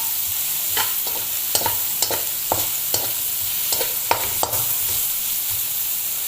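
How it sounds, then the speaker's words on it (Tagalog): Ginger sautéing in a hot pan for batchoy, a steady close sizzle broken by regular clinks and scrapes of a spatula stirring, with no talking. "Gigisa-gisain lang natin yung ating luya"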